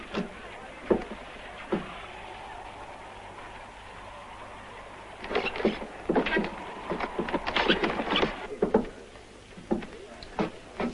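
Horses being led away in a western film, hooves clip-clopping in scattered irregular steps that thicken into a busier cluster midway, moderately near.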